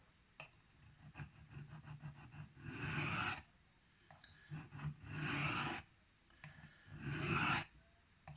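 Knife blade being reprofiled freehand on diamond sharpening stones, a Spyderco Byrd Robin 2, giving three long rasping strokes in steady bursts with quieter scraping between them, close and alone.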